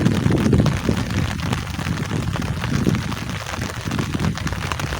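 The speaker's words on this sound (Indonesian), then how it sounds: "Wow, air hujannya besar banget ini mah." Heavy rain pours down on a cool, windy morning in a rural Sundanese village in West Java, a dense, loud, steady roar of water with no voices.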